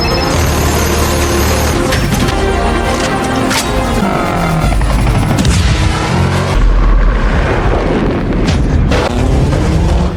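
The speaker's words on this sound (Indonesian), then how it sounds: "Sunway pun langsung menembaki rombongan Chris dan berhasil meledakkan satu kendaraannya." Action-film battle with dense, continuous gunfire and heavy booming blasts as a vehicle explodes, loud and relentless throughout with crashing impacts layered in the mix.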